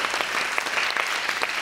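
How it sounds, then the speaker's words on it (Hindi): A studio audience at a Pakistani talk show claps in a dense, steady burst of applause, close and fairly loud, with no talk over it. "तालियां बजाओ"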